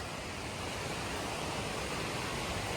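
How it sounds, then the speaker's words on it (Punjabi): Fast-flowing canal water after rain rushes past in a dense, unbroken roar, steady and fairly loud throughout with no voices. "ਨਹਿਰ ਵਗਦੀ ਇੱਧਰ ਤੇ ਦੇਖਦੇ ਕੋਈ ਰਸਤਾ ਹੋਵੇ ਥੱਲੇ ਜਾਣ ਨੂੰ ਪਾਣੀ ਬਾਵਾ ਤੇਜ਼ ਆ"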